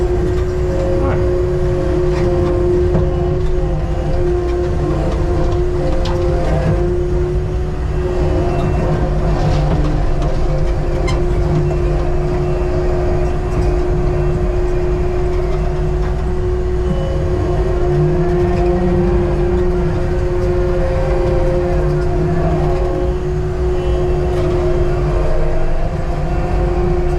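A TopCat mulcher mounted on a skid steer digs into dirt, its engine and spinning head making a loud, steady drone with a constant whine that runs unbroken throughout.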